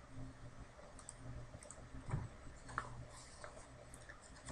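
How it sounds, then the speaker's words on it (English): Faint computer mouse clicks in software, a couple of soft, brief clicks over a quiet low hum. "I'm going to go ahead and click on automatic overlap and hit apply."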